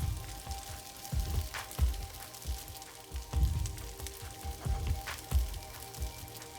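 Kimchi juice and salt hitting kimchi fried rice in a hot pan, giving a close, crackling sizzle with soft bursts and spatters recurring steadily throughout.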